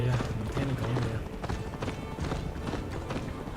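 Horse hooves gallop steadily in Assassin's Creed Valhalla, a dense, loud clip-clop rhythm that runs throughout over ambient game noise.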